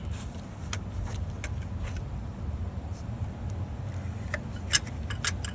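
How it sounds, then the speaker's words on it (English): A loose rocker arm with a torn-up pushrod ticks in the Cummins engine of a 2020 Dodge RAM 3500, sharp irregular clicks sounding over a low idling rumble. "It is a loose rocker arm, people. The push rod is torn up."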